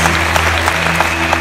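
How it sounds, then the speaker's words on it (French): A church congregation claps loudly in acclamation during a prophetic sermon, with dense, sustained applause over a steady low hum from the sound system. "Acclamons très fort pour la parole de Dieu."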